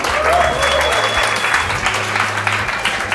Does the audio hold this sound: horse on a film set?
no